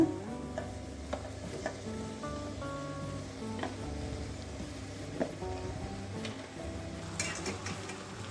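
Fried potato and brinjal being stirred into a sizzling masala in a pan, with soft scraping strokes and gentle frying crackle, close and fairly quiet with no talking.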